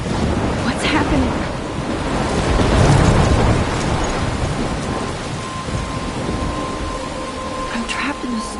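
Steady heavy rain with rolling thunder in a thunderstorm from the video game Life is Strange, loud and continuous throughout.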